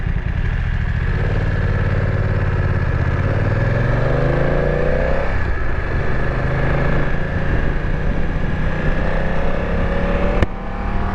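A BMW F900 XR motorcycle engine revs up quickly under riding, rising in pitch through the gears over a steady, loud drone of wind and road noise. No one talks.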